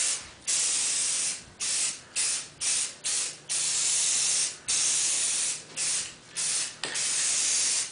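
Aerosol spray paint hisses onto a golf club in short, repeated bursts of varied length, loud and close, with brief pauses between each pass for a camouflage finish.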